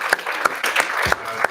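Audience applause at a startup graduation event in Toronto as a participant is introduced, a short burst of clapping that is steady and moderately loud, with no voice over it.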